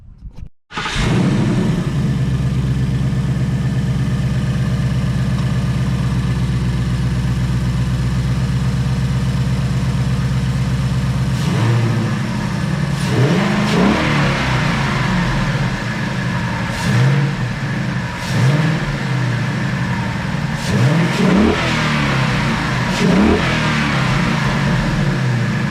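A 2020 Ford Mustang GT V8 with a K&N intake and throttle body spacer fires up with a loud start, holds a steady idle, then gets several sharp revs blipping up and falling back, close and alone.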